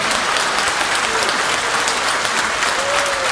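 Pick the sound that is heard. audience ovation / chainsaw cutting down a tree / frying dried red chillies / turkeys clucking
audience ovation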